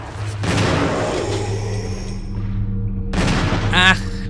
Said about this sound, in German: ein Schuss vergeudet